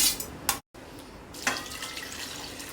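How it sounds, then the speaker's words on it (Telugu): Water splashes into a pressure pan holding carrots and moong dal in short close bursts, with a brief silent gap between pours. "ఒక 2 గ్లాసులు నీళ్లు పోస్తున్నాను."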